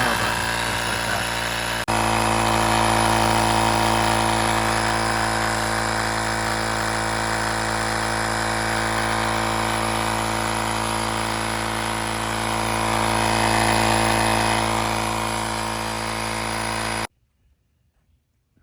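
A TOADJFOU cordless portable air compressor runs at steady, loud volume with a constant motor hum and whine for most of the stretch, then cuts off abruptly into silence near the end.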